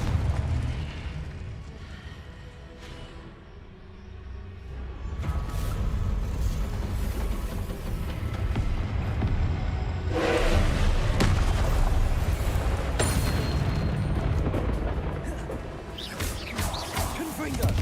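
Confringo fire spells in Hogwarts Legacy blast in loud, rumbling bursts, one after another over sustained booming game noise with a crackling burst near the end.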